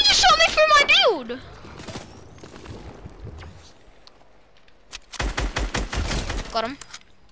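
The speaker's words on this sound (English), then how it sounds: "You just shot me through my build." Gunfire in a Fortnite-style building shooter: a burst of rapid sharp shots fired through a player's build, loud and close, with speech before and after.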